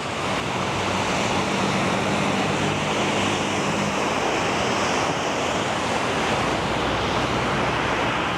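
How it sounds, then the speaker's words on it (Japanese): Ocean waves break on a beach in Sri Lanka, a continuous loud roar of surf mixed with wind buffeting the microphone, steady throughout with no voices. "波がすごいな。"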